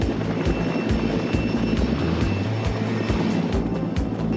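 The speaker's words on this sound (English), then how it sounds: "chopper departing the compound is heading in your direction" A helicopter flies overhead as a film sound effect, its rotor beating in a steady rapid chop with a loud engine drone, close and continuous throughout.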